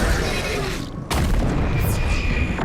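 Weapon fire in the video game Doom: The Dark Ages: a sudden heavy booming blast cuts in after a quieter stretch, followed by a sustained rumbling roar.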